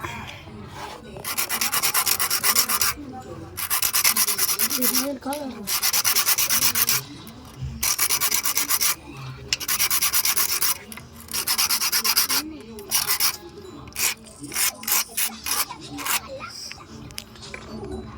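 The tip of a wooden spinning top is filed down by hand, making loud, raspy scraping strokes in repeated bursts of a second or two, quickening into shorter strokes near the end, with someone talking in between.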